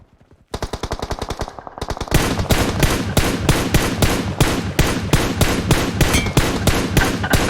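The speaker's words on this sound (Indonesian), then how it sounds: "Kasih mereka yang naik aja biar ditembakin Rejo" Gunfire from the video game PUBG Mobile rattles in loud, rapid automatic bursts, starting with a quieter string of shots and building to heavy, evenly spaced close reports.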